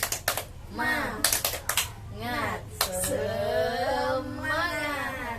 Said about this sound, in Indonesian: Gimana kalau kita tepuk semangat dulu Bu sebelum mulai nih?